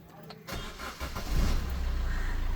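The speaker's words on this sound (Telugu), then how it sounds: "నేను ఇంజన్ స్టార్ట్ చేస్తాను ఇప్పుడు" A 2014 Maruti Ertiga VDI diesel cranks and fires up, a short starter whir giving way to a rising engine roar that settles into a steady, close low diesel idle.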